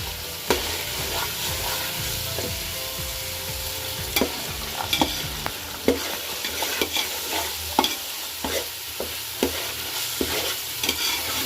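Peas stirred into fried masala in a pan for aloo matar gobi pulao, a continuous near sizzle with repeated spatula clacks and scrapes growing more frequent toward the end.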